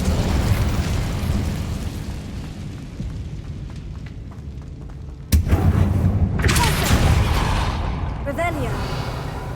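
An Incendio fire spell goes off in Hogwarts Legacy, a single sudden blast midway that erupts into a roaring, crackling burst, set against a steady rumbling game ambience with spoken voices.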